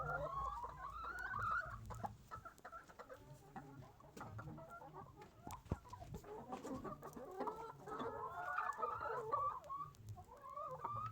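A flock of laying hens clucks and chatters continuously, many overlapping close calls rising and falling in busy waves, with occasional sharp knocks and farmyard noise.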